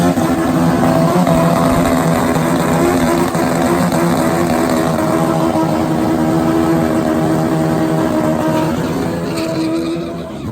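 Turbocharged Kawasaki ZX12 drag-racing motorcycle on a cold track at night at Santa Pod Raceway, its engine a loud, continuous, close roar that holds for the whole run and eases slightly only at the very end.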